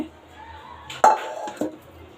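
A spoon stirs mango pulihora, grated raw mango rice with ghee, in a pan, giving two sharp scraping clinks against the metal over a quiet kitchen background.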